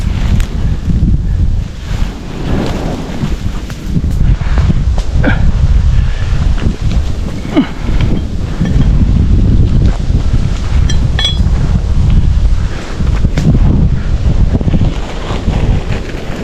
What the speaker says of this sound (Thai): อุ้ยลม